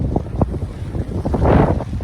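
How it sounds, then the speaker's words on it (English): Strong breeze buffets the microphone out on open water after paddling across to an island nature reserve, a rough, gusting rumble swelling louder toward the end, with no voices. "There's a bit of a strong breeze."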